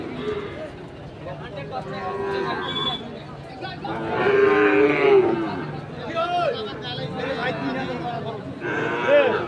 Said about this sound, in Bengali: আজকে কিন্তু সুন্দর সুন্দর বাছুর গরু দেখছি